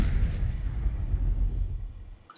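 A designed game effect of a cannon blast and a cannonball whizzing by, heard as a loud, rumbling burst with a rushing low whoosh that fades over a couple of seconds, alone without talk.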